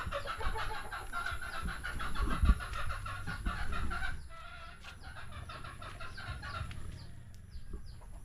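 Chickens cluck and crow nearby in a village during a barangay fiesta, repeated bursts over steady background noise that quiets after the first half.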